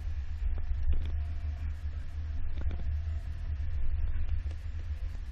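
A 2019 Subaru Crosstrek fitted with a kayak carrier rolls slowly over solid speed bumps, giving a steady low engine and road rumble with faint dull knocks and creaks from the load as it passes each bump.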